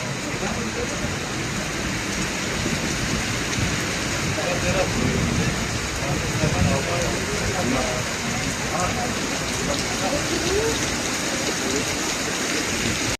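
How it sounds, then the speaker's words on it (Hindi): Heavy rain pours down in Turkey in a dense, unbroken hiss, with faint voices partly buried beneath it. "बहुत तेज़ बारिश हो रही है यहाँ पर"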